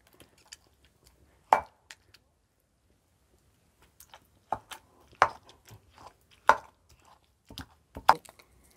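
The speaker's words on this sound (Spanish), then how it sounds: "Voy a empezar a moler el chile con el ajo. También el tomate." Chile, garlic and tomato being ground for salsa, heard as sparse, separate knocks and grinding taps of stone on stone, close and fairly faint with silent gaps between strokes and no talking.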